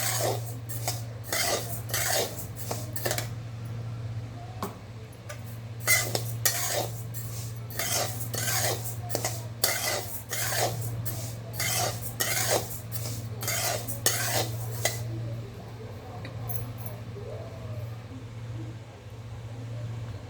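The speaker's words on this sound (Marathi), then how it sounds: "आता तांदूळ भाजूया" Rice dry-roasting in a pan for thalipeeth bhajani, stirred with a metal spoon that scrapes and clinks in quick rhythmic strokes for about fifteen seconds, over a steady low hum, before the stirring stops.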